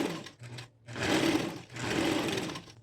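A home sewing machine stitches fabric in two bursts, running forward and then backstitching with a brief pause between, its steady motor whir close and loud while a garment seam is sewn.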